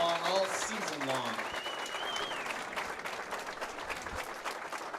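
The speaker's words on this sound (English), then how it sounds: "Let's give a round of applause for all of our finalists here this morning." A crowd applauds high school bowling finalists at the 2024 Wisconsin state championships. The clapping is loud and continuous, with voices, cheers and a whistle-like tone rising above it near the start.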